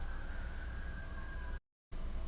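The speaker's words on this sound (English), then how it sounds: "There are wild sirens going." Distant sirens wail faintly through an open window over steady background hiss, with a brief dropout of silence near the end.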